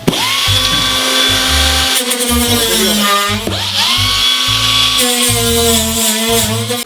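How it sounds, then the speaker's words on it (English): An angle grinder dresses off welds on a Ford RS200 being rebuilt, whining loudly and close. It runs steadily and shifts pitch as it bites and eases off the metal, with a brief dip near the middle. "you'll have to dress all these welds off with a grinder"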